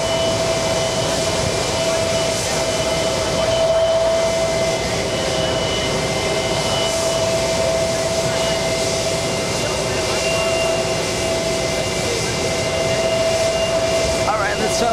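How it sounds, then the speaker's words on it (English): A Delta Airbus A330neo takes off at JFK bound for Athens, a steady, fairly loud jet roar with an engine whine that holds for the whole stretch, with voices talking now and then over it. "Delta 212 heading to Athens. A330neo taking off right now, it's on the roll."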